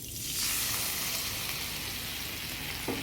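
A spice paste of cumin, chili, salt and turmeric loosened with water hits hot oil for a mustard-oil fish curry, erupting into a sharp, close sizzle that settles into a steady frying hiss, with a faint clink near the end.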